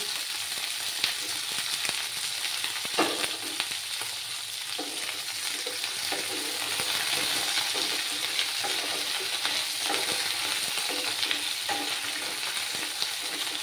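Cut flat beans frying in a pan for a Bengali fish curry, a steady close sizzle with occasional stirring scrapes throughout, no talking.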